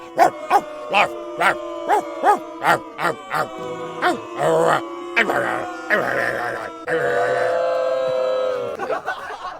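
A comedian mimics a dog with a run of about ten short, rhythmic, strongly voiced bark-like yelps, then slides into longer drawn-out howling and groaning tones, loud and close.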